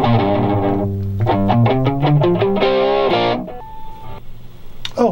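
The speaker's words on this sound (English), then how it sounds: "So the Bad Monkey sounds really close to almost a distortion." An electric guitar played through a Bad Monkey overdrive pedal rings out loud and close in a quick run of gritty, near-distorted notes, ending on a sustained chord and a brief held tone.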